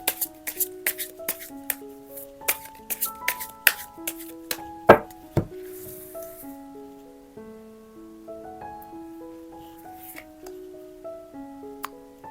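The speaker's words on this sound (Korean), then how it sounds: "그럼 카드 섞어볼게요." Tarot cards shuffled by hand in quick riffling bursts of papery flicks and snaps, with a soft melodic tone sustained underneath throughout; one louder slap of the deck partway through, then gentler shuffling toward the end.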